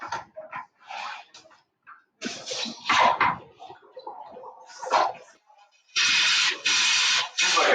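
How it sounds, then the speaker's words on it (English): Bursts of hissing spray from a paint sprayer spraying clean water come and go, ending in three loud, steady sprays; a voice is heard faintly amid the earlier noise. "Now it's spraying some of the water"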